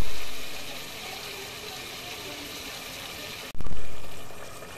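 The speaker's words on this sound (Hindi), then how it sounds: "इसमें साथ ही इसमें डालेंगे थोड़ा सा पानी ताकि मसाला नीचे फेंदे पर ना चिपके।" A little water poured into masala frying in a pan for a Rajasthani bean dish, a loud sizzling hiss that eases off, then a sudden fresh burst of sizzle near the end, with no one talking.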